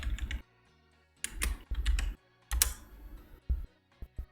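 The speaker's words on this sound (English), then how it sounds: "Sorry for clicking." Computer keyboard or mouse clicks come during a game of Pokémon Sword and Shield, quick close taps in irregular bursts with short silent gaps between them.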